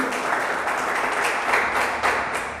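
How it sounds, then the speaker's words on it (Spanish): A church congregation gives a sustained round of applause during a Spanish-language sermon, many hands clapping in a dense, even wash that swells slightly near the middle, with no speech over it. "¿Cuánto le pueden dar una ofrenda de palmas a ese Dios que ha tenido una respuesta?"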